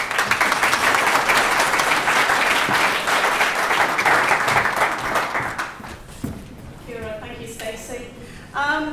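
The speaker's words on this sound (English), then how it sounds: "let's put it into our applause for Marion." Audience applause following a talk on fighting Phytophthora agathidicida, dense clapping for several seconds that fades away, then a voice begins speaking into a microphone.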